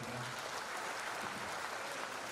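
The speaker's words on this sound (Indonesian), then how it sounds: "tepuk tangan buat Pak Sekjen kita" Applause for the secretary general at a handover ceremony of Indonesia's land and spatial planning ministry, heard as a faint, steady patter of many hands that lasts throughout with no break.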